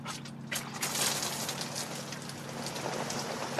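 Rain falls in a movie scene, a steady hiss of drops on surfaces at moderate level that swells briefly near the start, with no talking.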